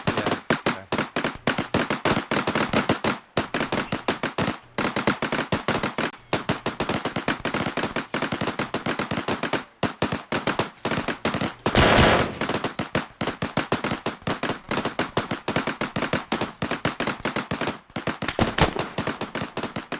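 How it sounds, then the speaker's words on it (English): Rapid automatic gunfire from a shooter in a hallway firing into a staircase in the military game Arma 3, dense bursts of loud shots repeating throughout with brief pauses, no talk. "he's just in the hallway firing into the staircase"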